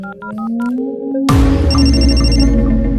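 A phone ringtone plays in a short electronic melody, loud and close. A sudden dramatic musical swell then takes over and buries it.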